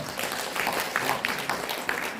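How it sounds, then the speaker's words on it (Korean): Audience applause in a city hall auditorium during a civic award ceremony, a short steady patter of many hands clapping at moderate volume with no voice over it. "박수 부탁드리겠습니다"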